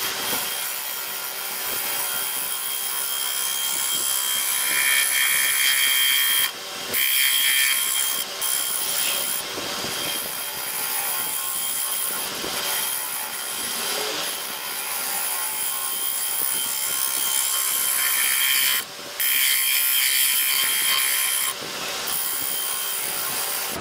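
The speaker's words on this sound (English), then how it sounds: "using my power sander, I went ahead and sanded that" A power sander works a wooden striped platter on a lathe, giving a continuous loud rushing, rubbing hiss with brief dips where the pad lifts off, steady throughout with no talk.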